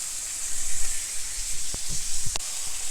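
Pork frying in an oiled pan for ramen, giving a steady, close, bright sizzle and hiss with a few small pops and crackles throughout.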